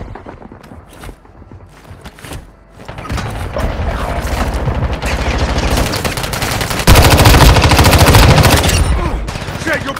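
Gunfire in the mobile shooter Warzone Mobile: sparse shots at first, then dense, loud automatic bursts and booms that grow heavier and continue without pause to the end, with a brief voice under the clamor.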